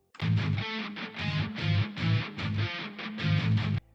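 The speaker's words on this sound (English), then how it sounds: "Then I layered the Djent guitar over it." Tight, heavily chopped djent guitar layered over a filtered riff, distorted chugs in short staccato bursts with gaps between, loud and close, no voices.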